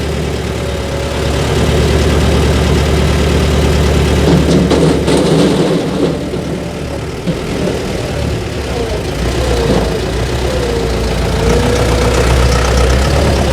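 A tractor engine idles steadily in freezing weather with thick, cold oil, a deep, rumbling low-frequency drone with a slight knocking rhythm, close and loud throughout.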